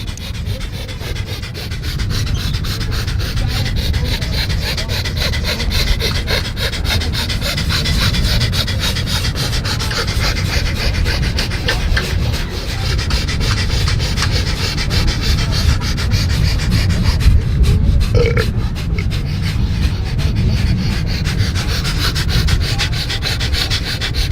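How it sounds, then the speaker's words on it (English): Rapid, forceful breath-of-fire breathing, a fast continuous run of sharp huffing breaths through the nose, loud and close, with a steady rhythm and no pauses for about twenty seconds. "All right, here we go. Breath of fire."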